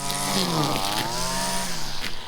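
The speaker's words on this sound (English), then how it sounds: "We're going to be running the electric saw, so we don't need ear protection for that." An electric saw cuts through branches of an old neglected fruit tree on a farm, a loud continuous whine rising and falling in pitch as the blade bites into the wood, heard close and alone.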